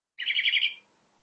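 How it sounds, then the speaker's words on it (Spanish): A single bright bird chirp, a quick warbling call of just over half a second, clear and fairly close against otherwise silent surroundings. "¡ay, qué lindo ese pájaro!"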